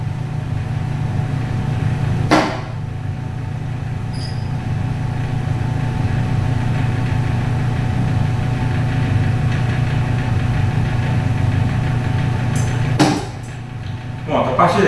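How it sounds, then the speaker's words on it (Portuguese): A laboratory fume hood runs with a steady, loud low droning hum for most of the stretch, with brief clunks near the start and end as it switches. "Agora é o caso de ligar a capela."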